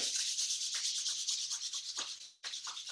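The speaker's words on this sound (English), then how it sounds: "Rub your palms together." Palms rubbed briskly together during a Shaolin exercise, a close, steady dry hiss of skin on skin lasting a few seconds, with a brief pause near the end before it resumes.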